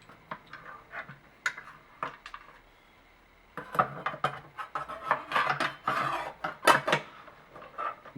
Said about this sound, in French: Donc je peux placer maintenant le disque.